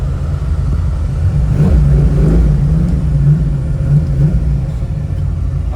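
A built small-block V8 in a 1966 Chevy Nova (Chevy II) with a four-speed gearbox, rumbling loud and close with a deep, throaty idle that swells briefly in a mild rev before settling back.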